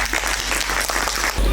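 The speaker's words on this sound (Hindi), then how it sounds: "उनके लिए तालियां।" Audience applause at a staged play event attended by the chief minister Pushkar Singh Dhami: dense, steady clapping from a crowd, fairly loud, which cuts off abruptly after about a second and a half.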